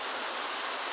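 Whole garam masala spices hit hot oil, producing a loud, even, continuous hiss for about a second.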